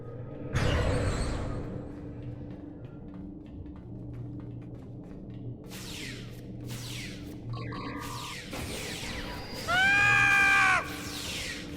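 A high-pitched scream bursts out near the start of a Star Trek Online game scene, followed by quieter game sound effects and a loud warbling electronic tone toward the end.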